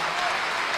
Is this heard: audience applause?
yes